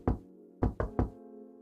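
Four sharp knocks on a door from a Walmart delivery arrive close and loud, a single rap followed by a quick burst of three, each ringing briefly with a hollow resonance before settling into a quiet hum.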